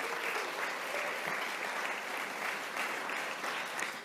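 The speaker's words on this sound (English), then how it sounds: "Let's give them a round of applause as well." Sustained applause from a luncheon audience at a community conference event, steady and dense clapping filling the room for several seconds without a break.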